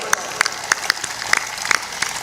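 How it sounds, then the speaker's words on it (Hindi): Audience at a Hindi religious discourse clapping in response to the preacher, heard as scattered, sharp claps that come and go irregularly rather than as a steady roar. "जोर से ताली बजाओ।"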